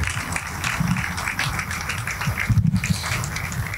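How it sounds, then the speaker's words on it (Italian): An audience at a beach soccer presentation event applauds a general director, with dense clapping that swells near the end and some faint talk mixed in. "presidente Elio Pellegrino, un applauso."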